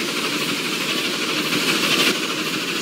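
Steady hiss and chuffing of a steam locomotive in the Roblox game Steam Age, a continuous rushing noise with no voices.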